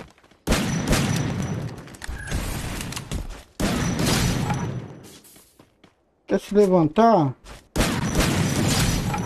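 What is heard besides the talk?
gunfire from all sides in Free Fire video game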